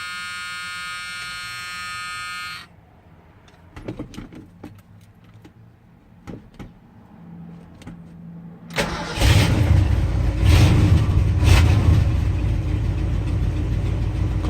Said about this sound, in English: Cold start, man.